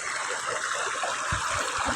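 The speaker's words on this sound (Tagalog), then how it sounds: "maagos, malamig na tubig." Cold, fast-flowing river water at Santa Fe, a broad steady rushing hiss close by, with a few low thumps of splashing or movement in the water toward the end.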